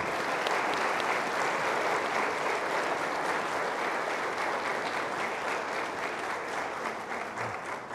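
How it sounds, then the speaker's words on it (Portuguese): A congregation at a monthly thanksgiving church service claps in a long, even round of applause that stays full and steady throughout, with no talk standing out. "Vamos levar uma salva de palmas para elas?"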